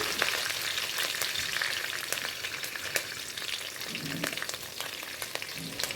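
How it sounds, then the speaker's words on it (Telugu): Mustard seeds, chana dal and cumin fry in hot oil for upma, a steady close sizzle with scattered pops and crackles and occasional stirring, no voices. "ఆవాలు, శనగబాళ్ళు, జీలకర్ర వేసి బాగా వేపుకోవాలి"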